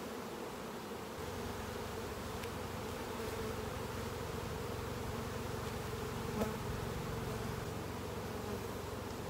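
Honeybees of the Saskatraz line buzz in a steady, dense drone during a hive inspection at an apiary, close and continuous with no voices.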